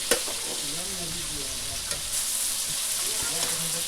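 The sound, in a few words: fish frying in a pan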